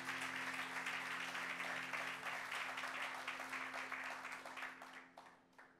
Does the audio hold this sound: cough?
no